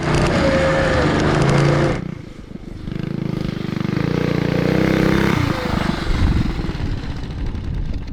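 A custom full-suspension mini dirt bike revs loud and close as it takes off, its engine droning steadily with rough clatter while the back tire spins, the pitch rising and easing over several seconds.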